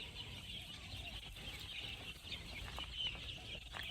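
Young chicks peeping in a steady, busy chorus of high chirps, moderately close and continuous, with faint background noise and no talking.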